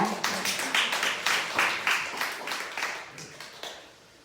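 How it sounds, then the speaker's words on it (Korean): A small church congregation at a Sunday worship service claps in welcome for a returning member, a modest, fairly quiet round of rhythmic hand claps that tapers off after about four seconds. "우리 박수 한번 하겠습니다"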